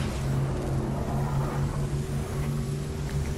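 A car engine in the Fortnite video game hums steadily as the vehicle drives off, a continuous low droning tone at moderate loudness with no talking.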